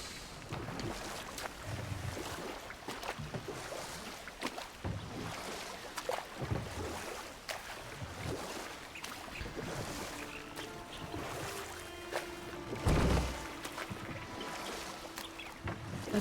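A boat sailing along a river in God of War Ragnarök, with a continuous wash of water and wind, rhythmic soft splashes like strokes, and a sharper knock near the end.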